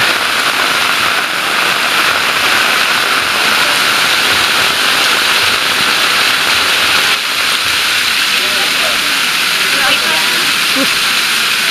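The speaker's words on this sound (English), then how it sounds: "it's pouring rain." Heavy rain pours down steadily at the Inkaterra Concepcion jungle lodge near Puerto Maldonado, Peru. It makes a loud, continuous hiss that carries without a break for the whole stretch.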